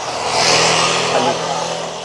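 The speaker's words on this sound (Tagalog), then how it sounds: "So may tricycle na may papasok na." A motorized tricycle drives along a street in Bulacan, a close, steady engine rumble under street noise while a person talks over it.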